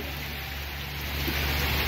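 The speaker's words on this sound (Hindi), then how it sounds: "अभी भी लगातार बारिश चली रही है" Steady monsoon rain falls continuously in Uttarakhand, a dense, even hiss that swells slightly louder toward the end, with no voices.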